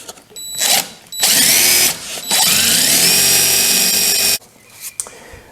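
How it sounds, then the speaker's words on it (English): A power drill turns a tapered drill bit into wood for screws on an old-time carpenter's tool box, with two short bursts and then a longer steady whine that stops abruptly, close and loud, without talk. "drill bit, and it makes a tapered hole, just perfect for screws"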